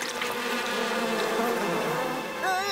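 In an animated Jungle Book episode, a dense swarm of bees at a beehive hums loudly and close by, a continuous droning buzz with no speech.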